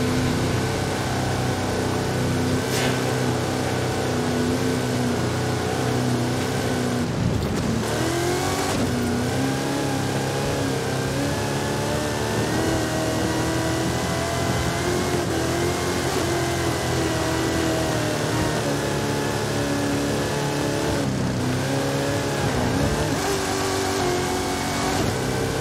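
Race car engine in Forza Horizon 5, Hot Wheels expansion, roaring continuously at high revs with shifting pitch and brief dips between gear changes, loud and steady throughout.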